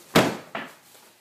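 Inside a house, a door gives two sharp wooden knocks or bumps close by, the first louder, followed by a faint third tap.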